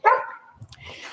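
A dog barks once, loud and close, in an indoor training session with a person present, followed by softer rustling and low sounds.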